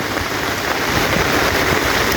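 Heavy rain pours steadily in Mombasa, a dense, loud, unbroken hiss of drops hitting surfaces, with no voices over it.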